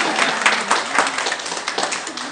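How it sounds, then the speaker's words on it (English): A church congregation at a Sunday morning service claps enthusiastically in a brief, dense burst of applause, with a few voices mixed faintly into the crowd noise. "Yes, you can clap."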